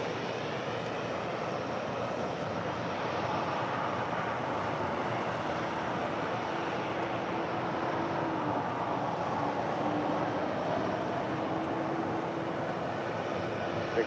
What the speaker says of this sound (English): Next departure, United Airlines Flight 417 heading to Kahului. It's a 737 MAX 9 just delivered in December of last year.